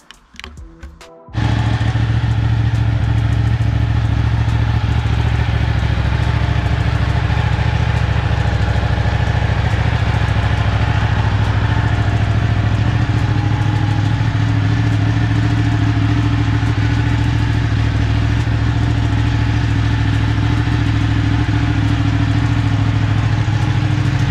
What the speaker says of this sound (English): run the bike for a couple minutes